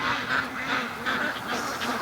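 Free range ducks at a lake quacking in a loud, close cluster, several overlapping nasal calls in short repeated bursts over a rough outdoor background.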